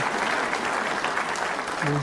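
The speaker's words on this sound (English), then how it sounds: "Now it's time to applaud." Snooker audience applauding at a Champion of Champions semi-final match, a steady dense clapping that fills the whole stretch, with a voice briefly rising under it near the end.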